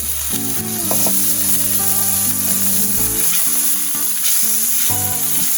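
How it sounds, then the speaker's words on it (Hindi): Butter melts and sizzles steadily in a large cooking pan, a continuous loud frying hiss, with faint tonal hum and occasional clinks in the background. "अब मैं इसमें सबसे पहले डालूंगी बटर।"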